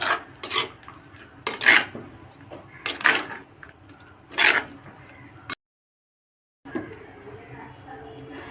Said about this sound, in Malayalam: അത് നന്നായിട്ട് മിക്സ് ചെയ്തെടുക്കാം.